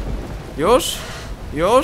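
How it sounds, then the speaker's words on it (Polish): Rain and thunder in the video game Teardown during a rainy scene with fires burning near a boat; steady rain hiss with two rising rumbling swells, and a voice speaks briefly. "Czemu ten deszcz nie działa? Działaj deszczu."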